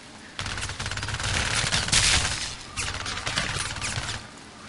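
Pistol gunfire in the shooter game Syndicate: a dense, loud rattle of rapid shots in two bursts separated by a brief pause, with no speech.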